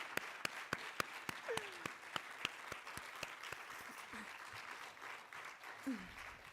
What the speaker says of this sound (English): Another round of applause for our team.